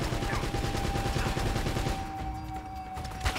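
Rapid gunfire in Uncharted: Drake's Fortune, a quick string of shots fired in steady succession for about two seconds before easing into quieter ambience, moderately loud and close.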